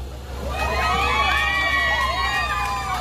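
A crowd gathered at Earl Bales Park in Canada for a boodle fight shouts and cheers loudly together, with high, overlapping voices rising into a sustained roar over a low background hum.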